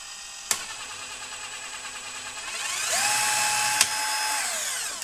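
A two-speed battery drill runs close by in gear 1, then a click marks the switch to gear 2 and its whine rises sharply in pitch and grows louder before another click.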